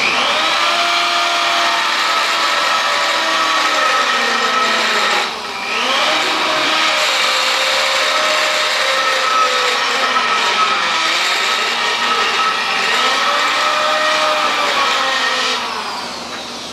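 Power grinder working a metal bolt for a kinetic log splitter build, a loud sustained whine that dips and recovers several times under load, close up and continuous with no talk.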